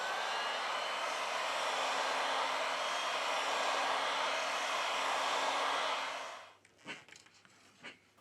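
A heat gun blows hot air at 90 °C onto the screen of an Oppo A91 phone, a steady loud broadband roar lasting about six seconds before it cuts off, followed by a few faint handling clicks.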